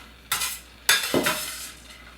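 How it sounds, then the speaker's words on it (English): Spinach, bacon and onion being mixed into a quiche filling in a bowl, three distinct stirring scrapes and clinks of a utensil against the dish, close and fairly quiet with nothing else around them. "we're going to mix in some of our spinach and bacon and onion"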